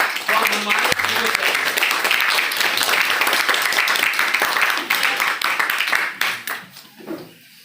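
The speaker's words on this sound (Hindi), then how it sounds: "आपकी जोरदार तालियों में बुलाना चाहूंगा" Loud, sustained applause from a large crowd at an award event welcoming a speaker to the stage fills the space, steady for several seconds before thinning out and fading at the end.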